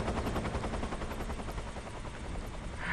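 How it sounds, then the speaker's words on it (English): Helicopter in the video game Metal Gear Solid 3: Snake Eater, a dense, steady rotor roar with fast rhythmic chopping pulses that stays loud and close for the whole stretch, with no talk over it. "Fuck you, helicopter."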